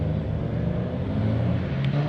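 At a car meet, cars drive out with a low, steady engine rumble and droning idle from nearby vehicles, continuous and moderately loud, with no talking.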